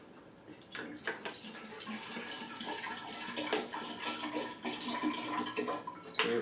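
Bottled water is poured into high-proof homemade rum for proofing, a splashy, gurgling stream running for several seconds with irregular glugs and bursts that grow a little louder, close to the microphone and without talk.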